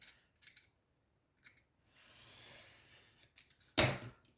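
Scissors snip once through a piece of paper for a notepad holder craft, a single sharp, close cut after a few soft handling clicks and a brief rustle.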